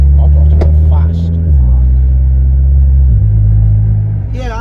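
A Volkswagen Golf R with a 500 bhp tune and a swapped gearbox drives in normal mode, its engine a loud steady low drone that drops in pitch at each upshift, close and continuous throughout.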